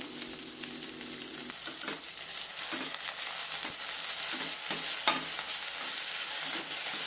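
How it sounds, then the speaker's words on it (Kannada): Fenugreek leaves and onion sizzling in a pan for methi pulao, a steady frying hiss with scattered spatula scrapes and taps heard close and alone. "ಈರುಳ್ಳಿ ಜೊತೆ ಚೆನ್ನಾಗಿ ಮೆಂತ್ಯ ಸೊಪ್ಪು ಚೆನ್ನಾಗಿ ಫ್ರೈ ಆಗಿದೆ"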